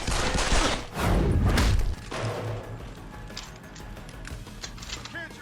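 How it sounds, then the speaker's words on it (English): Gunfire in the video game Deus Ex: Human Revolution: a quick burst of loud, sharp shots and impacts followed by quieter scattered crashes, with someone shouting over the action. "Fucking gunshots!"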